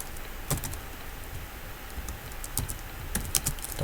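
Fast keystrokes on a computer keyboard arrive in short clustered bursts with brief pauses between them, close and fairly quiet, with no talking.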